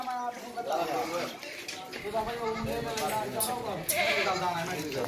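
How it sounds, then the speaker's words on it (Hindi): White goat bleating repeatedly on a farm, a series of loud, wavering cries close by, with people talking around them. "प्योर वाइट बकरी है माशाल्लाह"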